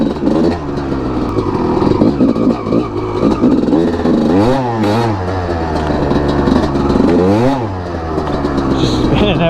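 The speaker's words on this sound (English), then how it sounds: "this is a entire motocross bike" A Honda CR250R motocross bike's two-stroke engine revs loud and close, with a rasping tone that repeatedly swoops up and falls back between throttle blips.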